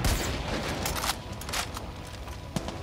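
Steady rapid gunfire from Far Cry 5 fills the whole stretch, a loud, dense fusillade of close shots with no talking over it.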